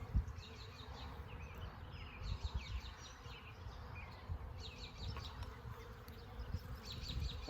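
Honey bees buzzing around a hive in a bee yard, a close, continuous swarm drone with individual bees passing near, alongside low rustling and handling noises of hive work.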